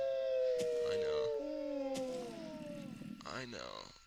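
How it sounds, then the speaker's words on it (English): Wolves howl in a Star Wars video game, long wavering tonal cries overlapping and gliding in pitch, fairly close and clear, with a person talking underneath at times. "Already I can hear some scary wolf noises."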